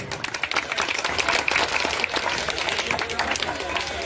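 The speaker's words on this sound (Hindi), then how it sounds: "ताली बजाइए।" A crowd at a political rally in Raghunathpur, Bihar, claps loudly and steadily, a thick wash of applause with voices mixed in underneath.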